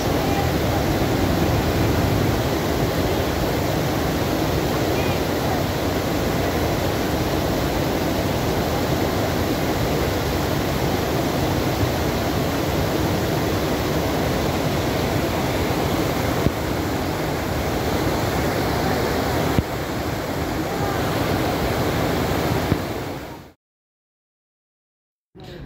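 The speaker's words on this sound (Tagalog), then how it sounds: "Sarap magpamasahe sa mga patak ng tubig ng waterfalls." A waterfall at Pozzo di Domaso in Italy pours down in a loud, steady, broadband roar that continues unbroken for over twenty seconds, then cuts off abruptly near the end.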